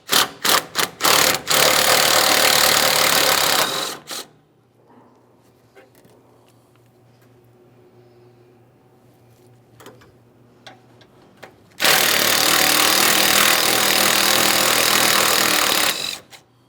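A ratchet works loose the 10mm mounting bolts on a 2008-2017 Mitsubishi Lancer, heard as loud rapid clicking bursts at the start and end, with a quiet stretch of faint handling noises between.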